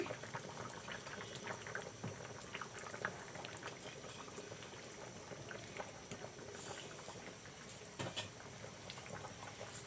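Snakehead fish curry with tomato, beans and new potatoes bubbles in a pot, a faint steady boiling burble of small pops running throughout with no voices.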